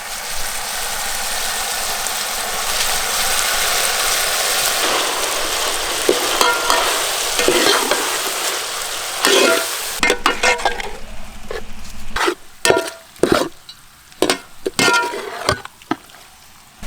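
Ground tomato paste goes into a hot pan of frying heart masala and is stirred, starting as a loud steady sizzle that gives way to sharp, irregular scraping clatters of the spoon against the pan. Nobody speaks.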